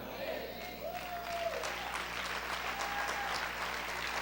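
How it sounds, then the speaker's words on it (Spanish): Church congregation applauding during a sermon, a steady wash of clapping heard at a moderate distance, fairly even throughout. "Vamos a aplaudir fuerte al Señor."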